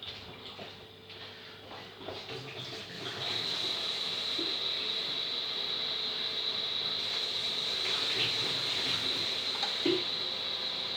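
Hot water runs from a kitchen tap while chicken fillets are cooked, beginning quietly and then settling into a steady, continuous hiss for most of the clip, with a few faint clinks.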